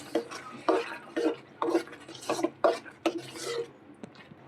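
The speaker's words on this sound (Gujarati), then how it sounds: "સારી રીતે મિક્સ કરી લઈશું।" A spoon stirs mashed pav bhaji vegetables mixed with lemon juice in a pan, making a steady rhythm of thick, wet scraping strokes about twice a second, close and fairly loud, without any speech.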